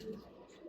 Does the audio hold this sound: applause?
no